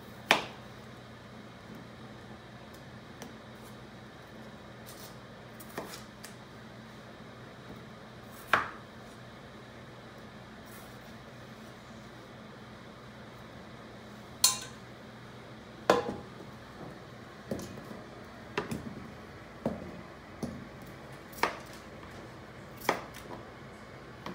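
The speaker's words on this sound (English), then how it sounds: "peeled four medium-sized potatoes and we're just going to slice those up." A knife slices through four peeled medium potatoes on a cutting board, sparse sharp chops and clicks at irregular intervals, growing more frequent toward the end, close and fairly quiet with no talk.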